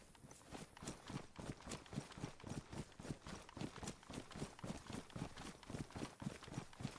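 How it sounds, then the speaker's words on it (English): Faint, rapid hoof-like thuds from a deer moving in DayZ, a quick steady trot of repeated footfalls continuing throughout. "Well, now I know what the deer sound like."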